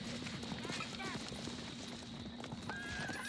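Horses gallop with rapid clip-clop hoofbeats and a neigh in a Robin of Sherwood TV episode, under a person talking over them.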